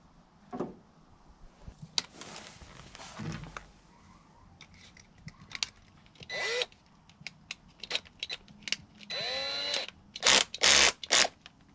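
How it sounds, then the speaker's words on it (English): A power drill with a wood bit whirs in short bursts while drilling through wood for a utility trailer tailgate, interrupted by clicks and handling noises, then several louder revving pulls near the end, close up. "I'll drill a hole through this one"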